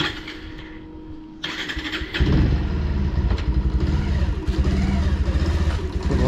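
A motorcycle with a faulty clutch starting up and then running, with a quiet lead-in followed by a jump into a loud, steady engine drone with rhythmic pulsing and slight revving close by.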